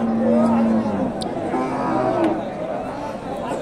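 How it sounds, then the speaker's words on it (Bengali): A local desi cow, about five months pregnant, at the Dakumara cattle market in Bogura lets out a loud, close moo, with low crowd chatter from the busy market around it. "দেশি গাভী।"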